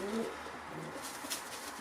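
A pigeon gives a short, soft coo, close and low, over faint background noise, with no voices.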